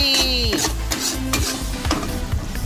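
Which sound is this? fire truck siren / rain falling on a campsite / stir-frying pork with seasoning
stir-frying pork with seasoning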